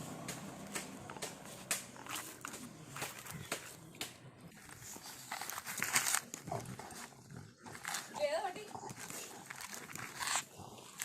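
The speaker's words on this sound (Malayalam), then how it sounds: "കറുത്ത രണ്ട് പട്ടികൾ" Two black dogs, one tearing the husk off a coconut, make irregular rustling, gnawing and scuffling noises close by, with no talking heard.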